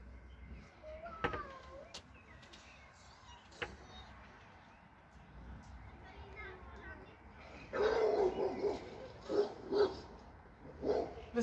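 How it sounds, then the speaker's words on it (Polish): A dog barks in short bursts toward the end, fairly close, after quieter household noises and a couple of sharp knocks, in an apartment with wild boars on the estate outside. "Wystraszyły się psa, bo pies szczeka."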